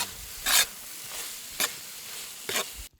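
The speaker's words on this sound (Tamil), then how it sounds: "இந்த நேரத்தில் நம்ம வேக வச்ச வாழை கிழங்க சேர்த்துக்க போகிறோம்." Boiled plantain pieces stirred into a frying masala, three or four brisk scraping stir strokes over a steady sizzling fry, close and with no voices.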